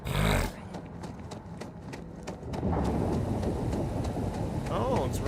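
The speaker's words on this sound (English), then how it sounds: "Oh, it's raining here still." Steady rain falls in a Starfield game world, a continuous wash of hiss that swells louder midway, with brief vertical ticks and a burst of noise at the start; a voice talks over part of it.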